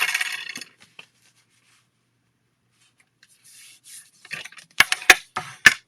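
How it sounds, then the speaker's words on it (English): Paper card bases are folded in half by hand, with a rubbing slide at first, then a quiet pause, then several sharp, crisp creasing strokes close up. "I'm folding my card bases in half"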